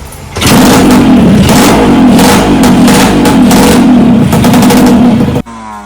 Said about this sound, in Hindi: अभी गाड़ी हम कर रहे हैं स्टार्ट।